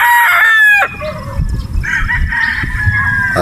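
A 5K Sweater gamefowl rooster on a Batangas game farm crows once, loud and close, its long drawn call ending sharply, followed by a steady outdoor background with faint other crowing in the distance.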